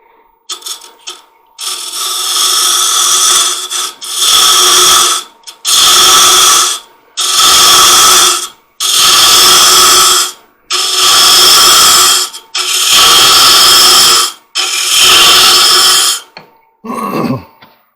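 Wood lathe spindle-turning the end grain of a long-stem goblet, with seven loud, steady bursts of a gouge cutting, each lasting about a second and a half and divided by short pauses, all close-up with no one speaking.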